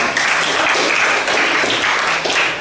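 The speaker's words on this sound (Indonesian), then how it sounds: "Tepuk tangan untuk kita semua." A classroom of students clapping together for everyone, a loud, dense round of many hands that stays steady and close with slight surges, and nobody talks over it.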